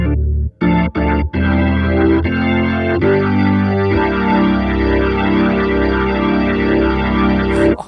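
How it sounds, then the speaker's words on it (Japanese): NEO Instruments Ventilator II rotary speaker simulator with drive distortion, played from a keyboard: loud sustained organ chords with a gritty, swirling tone after a few short stabbed chords, holding steady to the end. "このレズリーの歪みながら回ってる感じがもう本当によく出てるんです。"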